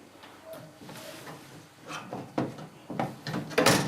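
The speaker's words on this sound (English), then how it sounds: "The metal door will now come away" A metal dishwasher door on a Whirlpool Diplomat being lifted away: a series of clunks, scrapes and knocks that grow louder and busier toward the end, close by with no talk.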